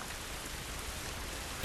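Steady, dense rain hisses without a break in the video game The Last of Us Remastered, a constant full wash of falling water with no distinct drops or thunder standing out.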